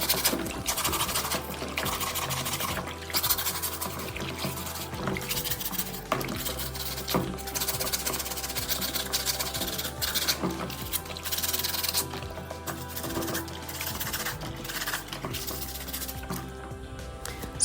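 White sneakers being washed and scrubbed in water, continuous close splashing, sloshing and rubbing with irregular rhythm throughout.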